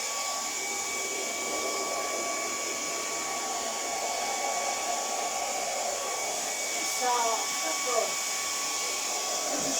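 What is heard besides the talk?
hair dryer running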